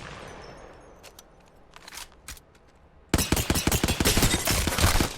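Havoc energy rifle in Apex Legends firing a sustained automatic burst, loud and close, with rapid regular shots after a quieter stretch of faint ambient game sounds and a few isolated clicks.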